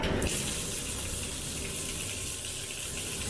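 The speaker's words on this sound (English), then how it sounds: "let's test the shower" Water pours steadily from a motel room shower in a constant, close hissing spray with no pauses.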